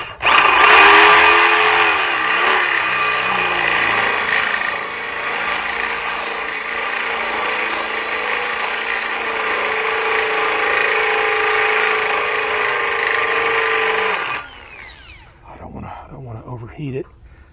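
A loud, continuous high-pitched grinding whine of a power drill boring into steel runs steadily for about fourteen seconds, then cuts off, leaving scraping noises.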